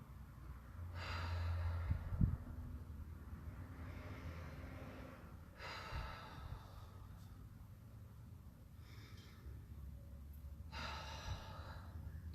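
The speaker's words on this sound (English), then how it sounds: "let's first we'll take a few deep breaths here to get grounded and centered" Slow, deep breaths during a grounding meditation, a few long airy inhales and exhales spaced several seconds apart, soft and close, with a brief low thump near the start and no talk.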